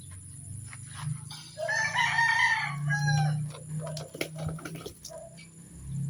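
A rooster crows loudly nearby, one long drawn-out call, followed by softer clucking and scattered clatter.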